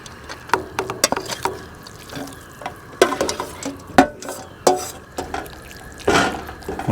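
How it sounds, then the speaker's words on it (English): Meat frying in a pot at Paso Picacho Campground in Cuyamaca Rancho State Park. Irregular clanks and scraping stirring strokes sound close over a low, steady sizzle. "Stir that up. All right, now I'm going to add the meat."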